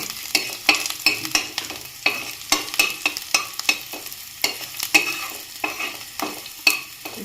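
Garlic and then onion frying in a pan for a homemade cream of broccoli soup, with a steady close sizzle broken by repeated sharp clacks of a spatula stirring against the pan, and no talk.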